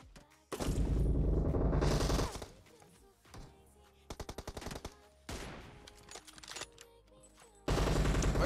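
Automatic gunfire in a battle royale scrim video game, with long sustained bursts alongside shorter rapid volleys and single cracks, loud and close, separated by brief lulls.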